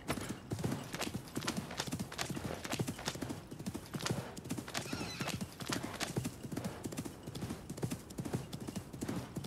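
Rhythmic clip-clop of horse hooves at a steady gait in the Assassin's Creed Mirage video game, close and continuous, with faint game ambience underneath.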